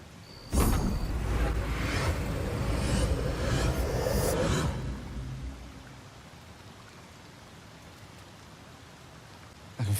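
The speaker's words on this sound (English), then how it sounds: "I can feel the storm abating." Storm rain pours steadily in Baldur's Gate 3, a dense broadband hiss with no voices, holding loud for about four seconds before fading away to near silence.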